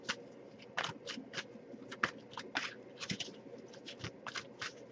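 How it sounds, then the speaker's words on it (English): A deck of tarot cards being shuffled by hand, with a quick series of crisp, papery riffles and slaps, close and fairly quiet, in an irregular rhythm with no speech. "I'll give it a few more shuffles"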